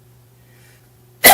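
A single sharp, loud cough at the end, after a second of near silence with a faint low hum.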